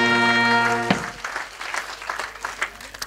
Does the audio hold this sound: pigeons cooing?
no